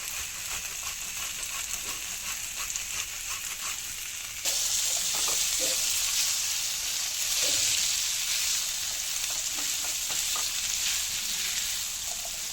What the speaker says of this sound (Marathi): आता आपण फ्राय करून घेऊया याला काय करायचं थोडं फ्राय करून घ्यायचं